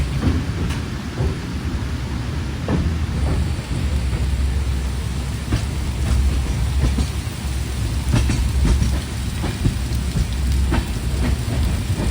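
Heavy rain roars steadily against the moving Karwar Express between Mangaluru and Yesvantpur, with a constant rumbling undertone and occasional sharper spatters throughout.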